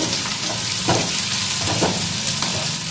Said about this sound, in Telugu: సో ఆనియన్స్ అయితే వేగుతున్నాయి